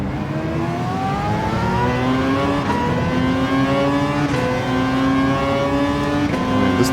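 A Toyota hybrid race car's engine winds up through the gears in Gran Turismo 7, a loud, close whine rising in pitch with brief dips at each shift, no talk over it.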